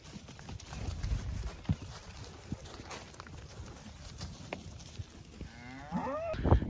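Cattle moo several times while being moved into a fresh pasture paddock on a farm, with hoof and shuffling noises and a loud, close moo near the end.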